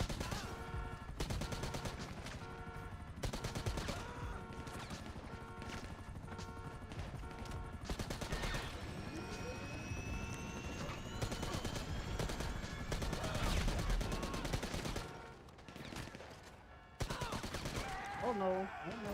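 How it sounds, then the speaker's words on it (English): Dense gunfire in the GTA Online video game, rapid automatic bursts and repeated shots rattling almost without pause, loud and near, with game sound effects mixed in and a voice talking at times. "Man, they're shooting the shit out of me."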